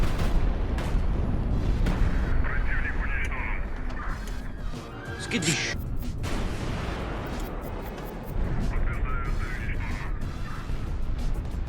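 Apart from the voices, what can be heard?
artillery salvos firing in the video game HighFleet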